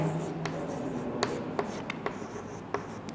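Marker or chalk writing on a board during a physics lesson on electric fields comes through as faint, quiet scratches and small tapping strokes at irregular intervals over a soft room hiss.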